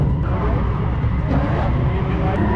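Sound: drift car with LS engine revving

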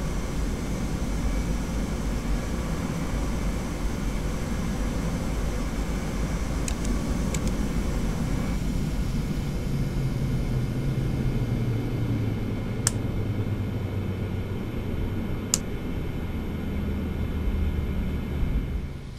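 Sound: TFDi 717 airliner engine shutting down in Prepar3D simulator video game

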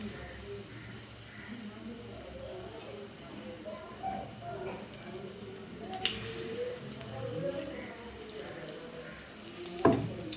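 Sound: food frying in hot oil in a wok

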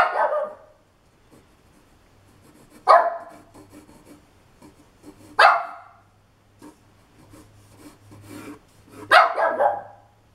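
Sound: dog barking

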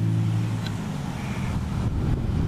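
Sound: road traffic noise with a passing truck

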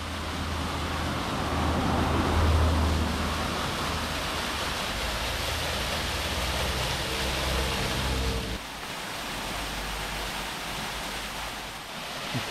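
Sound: waterfall, cascade in the Hennerbach valley on the Rheinsteig

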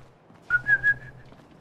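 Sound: person whistling

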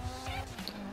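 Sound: Karuma vehicle driving in GTA V video game

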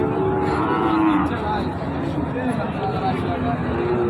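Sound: cow mooing at cattle market

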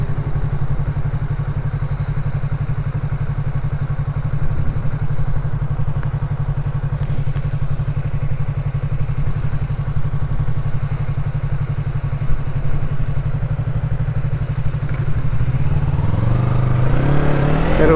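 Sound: Yamaha MT-03 motorcycle revving with GRS full exhaust

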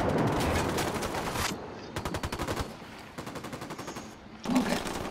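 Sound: gunfire in video game Ghost Recon Wildlands

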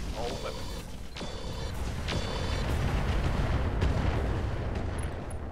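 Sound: ATM-12 missiles with swarm incendiaries firing in video game Roguetech

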